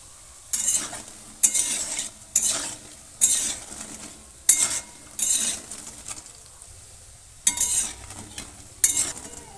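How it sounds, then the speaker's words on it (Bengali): Vegetable pakoras fry in hot oil with a continuous sizzle, broken by repeated bursts of stirring and utensil scraping against the pan at regular intervals, and no talking. "এইভাবে পকোড়া ভাজলে খেতে খুব মচমচে হয়"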